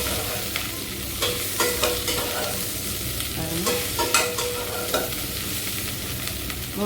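Chili powder sizzles in hot oil in a pan for okra sambar while a spoon stirs with intermittent scraping clinks, a steady close frying hiss under the strokes.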